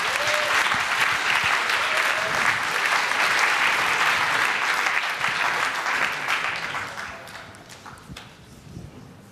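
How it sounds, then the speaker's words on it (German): Audience at a Berlin youth hackathon giving loud, dense applause to two young presenters, sustained for about six seconds before tapering off into scattered claps and quiet. "Einen herzlichen Applaus für die beiden."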